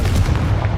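A Confringo blasting spell goes off in Hogwarts Legacy, a loud, sustained booming blast with a heavy low rumble that fills the whole brief moment without letup.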